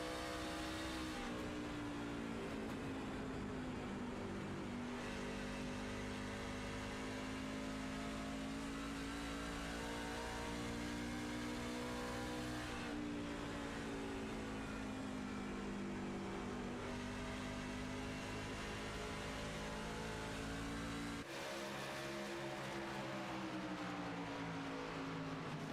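Onboard engine of a race truck in a truck series race at The Rock, a loud steady drone with rising and falling pitch as it shifts and accelerates, continuous and close throughout with no talk.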